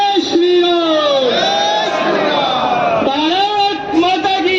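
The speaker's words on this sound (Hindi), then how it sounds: "और एक बार जोर से एक नारा लगाए, जय श्री राम" At a BJP rally at Azadpur Mandi, a large crowd loudly chants the slogan "Jai Shri Ram" in drawn-out, bellowing voices that rise and fall together in two or three swelling waves, close and energetic.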